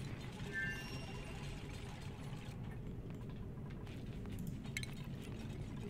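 A building being deconstructed in the game Oxygen Not Included, heard as a faint, steady bed of mechanical ratcheting and clinking with scattered small metallic ticks, quiet and continuous with no talking.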